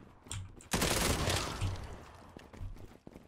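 Rapid gunfire from a rifle in the online shooter Zula: a dense burst of shots crackles loudly for a couple of seconds, then trails into scattered pops and debris-like rattles.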